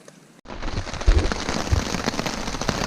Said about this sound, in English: The sound of that rain, it has picked up quite a bit